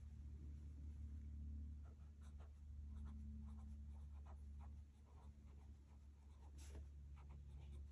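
A fountain pen nib writes a sample on paper with faint, soft scratching strokes that come and go over a low, steady background hum.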